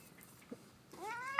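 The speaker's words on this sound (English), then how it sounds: "This cat's angry." A cat lets out a short, rising, drawn-out meow close by, preceded by a faint brief mew, in an otherwise quiet room.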